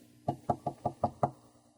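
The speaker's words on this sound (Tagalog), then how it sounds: "Oh, sino kaya itong kumakatok?" Six even, close knocks rap on a door in quick succession, crisp and loud against an otherwise quiet room, with no talking.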